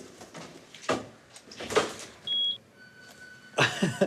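A short electronic beep from a house alarm among door and mechanism clatter, followed by a faint sustained tone and a burst of rustling movement nearby.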